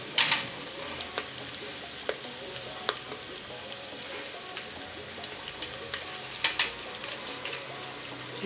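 Onion sautéing with a pinch of salt in a pan for basmati pulao, a soft continuous sizzle with occasional sharp crackles and clinks of stirring, close and mostly free of talk.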